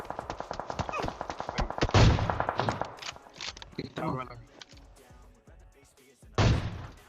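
Gunfire rattles in PUBG Mobile: rapid bursts of shots crack in quick succession, with a few heavier, louder blasts standing out, all under an excited voice talking over the action.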